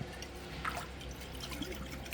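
Boysenberry syrup bottles are rinsed out into a fruit mash, giving faint dripping and splashing liquid sounds with small trickles and a few light knocks.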